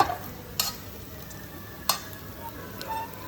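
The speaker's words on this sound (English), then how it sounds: "you'll start to smell that garlic and the chilli cooking" Garlic and chilli frying in oil in a pan for pasta, a steady soft sizzle with a few sharper clicks and stirring scrapes, close and alone with no talk.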